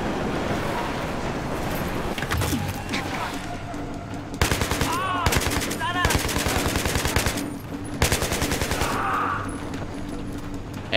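Gunfire from a weapon in the video game Battlefield 3: several loud bursts of rapid automatic shots in quick succession over a steady background rumble, with brief pauses between bursts.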